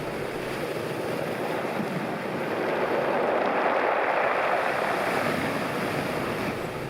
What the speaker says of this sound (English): Listen to the rattle of the pebbles as the water recedes.